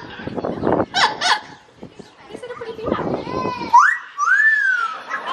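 Amazon parrot at a safari park zoo vocalizing, with short chuckling calls followed by a clear rising, then falling whistle-like cry, mixed in with a person talking nearby.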